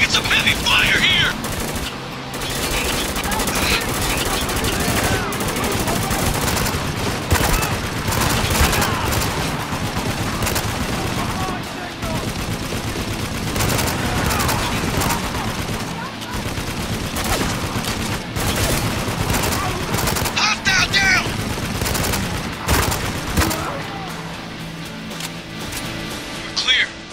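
Heavy gunfire in Spec Ops: The Line: dense, loud bursts of automatic fire and rapid shots sustained throughout, with people speaking over the combat.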